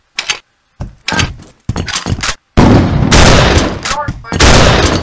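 Video game combat at a Russian facility: loud choppy bursts of gunfire with gaps of silence, then a heavy grenade blast and sustained rumbling roar, close and dominant, with a voice speaking in between.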